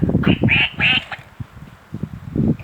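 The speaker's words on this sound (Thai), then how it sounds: "มาเป็ดน้อยเร็วๆมาเลย" A duck quacks in a quick burst of three or four nasal calls, then softer, lower noises follow with breaks between them.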